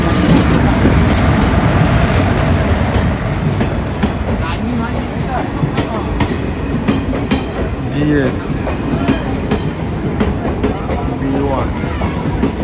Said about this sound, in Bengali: ফাইনালি কিন্তু ট্রেন ঢুকে গেল মা তারা এক্সপ্রেস